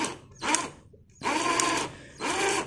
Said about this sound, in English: I might have to drill it